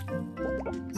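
Mushroom broth poured into a jar in a potion-making video game, heard as a short burst of quiet bubbly liquid drips and plops lasting about a second.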